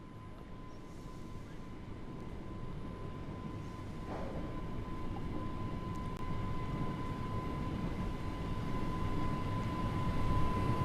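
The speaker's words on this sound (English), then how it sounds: "Sounds like we've got another train." A train approaches in the Train Sim World video game on the Isle of Wight line, a low steady rumble with a faint whistle-like tone that slowly grows louder throughout.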